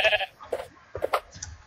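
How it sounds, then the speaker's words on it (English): A sheep in the Minecraft video game bleats several times in short, separate calls, fairly quiet, with brief gaps between them and no talk over them. "how about we just spawn a sheep"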